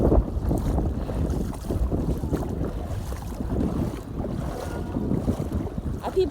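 Wading through a river near a waterfall at Reggae Falls, with steady broadband rushing water and wind buffeting the microphone throughout, loud and continuous without talk.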